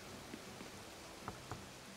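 Quiet rainfall in Animal Crossing: New Horizons makes a faint, even hiss with a few soft drip-like ticks, and no one speaks.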